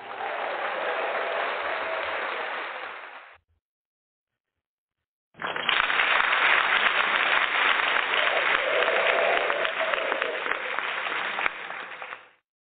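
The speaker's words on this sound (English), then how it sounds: "All of these gentlemen deserve another round of applause." A studio audience applauds football players, including a Detroit Lions kicker, in two loud sustained rounds of clapping with a short silent gap between them.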